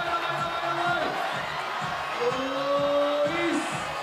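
Spectators at a Climbing World Cup lead final in Chamonix cheer and shout in sustained waves of encouragement, with a commentator talking over the crowd.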